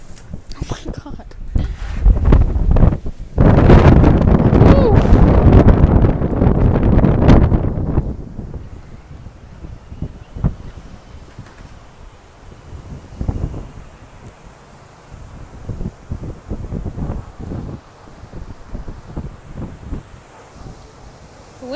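Strong wind blows hard across the microphone outdoors, a loud roaring buffet for the first several seconds that then drops to gusty, intermittent rustling.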